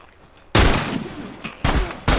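Gunfire in The Last of Us multiplayer: three loud, sharp shots ring out in quick succession, each with a broad crack and a short decaying tail, close and with no talk over them.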